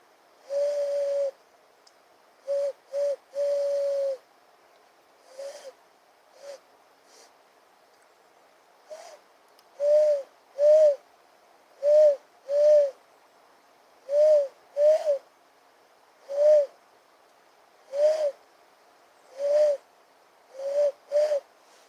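A person imitates owl hoots in an outdoor nature setting, making a long series of short, clear, mid-pitched hoots, some in quick pairs, spaced by silent gaps.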